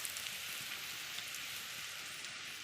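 Onions and tempering spices fry in a pan while making prawn with taro, giving a steady, even hiss of sizzling oil that runs without break at a moderate level, no voices over it.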